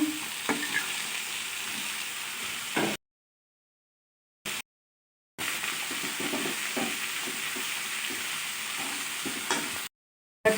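Fried potatoes tipped into a frying pan of curry give a steady close sizzle and stir with a few clatters, broken by two stretches of silence, with no talking.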